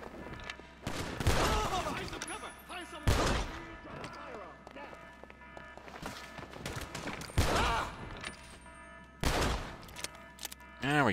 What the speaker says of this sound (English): It's double action revolver time! We're doing this Old West style.